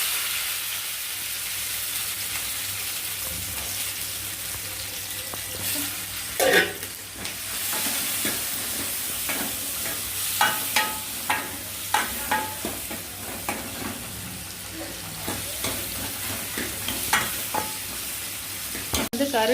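Onions tossed into hot oil with fenugreek seeds for a Tamil dried anchovy fish curry, crackling loudly up close while a spoon scrapes and clatters against the pan in repeated bursts.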